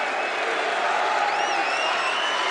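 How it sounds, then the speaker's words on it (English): A crowd at a college basketball game between Bradley and Indiana State applauds, a dense, steady roar of clapping and cheering with a faint whistle-like whoop rising above it. "You hear the round of applause for Hannah."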